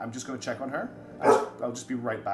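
A puppy barks and growls with short yips and rough bursts, close by, in between and under someone talking.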